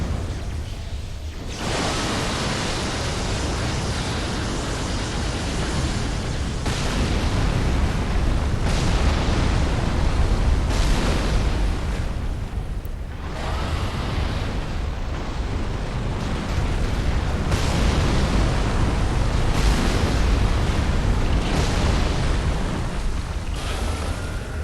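Heavy ballista shots pound a giant worm in Dark Souls 3, producing a continuous roar of deep booming impacts and crashing debris that repeats in waves every few seconds, loud and dense throughout with no talk.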